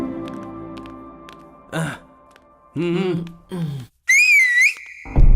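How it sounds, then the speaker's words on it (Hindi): A man gives a few short whistles to call a young woman, rising, sharp tones between pauses, with a brief sigh-like breath between them. "सीटी मार के बुलाता"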